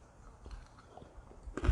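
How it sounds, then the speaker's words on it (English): Crunchy food is bitten and chewed close to the mic, giving a few soft, sporadic crunches in near silence that build to a louder bite at the end. "I'm sorry, I was eating."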